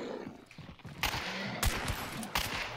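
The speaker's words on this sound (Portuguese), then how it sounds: "tem tiro na direita mesmo" Video game gunfire rings out in a few sharp, loud bursts separated by short gaps, over a steady background of in-game ambience.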